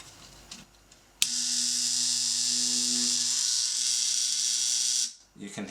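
An Andis T-Outliner hair clipper, just adjusted so it no longer rattles, switches on abruptly and runs with a steady, even electric buzz for about four seconds close up, then shuts off.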